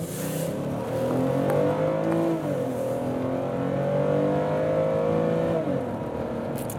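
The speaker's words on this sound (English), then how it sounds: "Lots of cars, so that's 4 that just ran it." Engine drone of vehicles running a light through a busy suburban intersection, heard from a police car as steady loud motor hum with rising and falling pitch as cars accelerate past, no talk.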